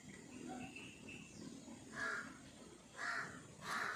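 Crow cawing outdoors, three loud harsh caws spaced about a second apart near the end, with fainter calls and background chatter earlier.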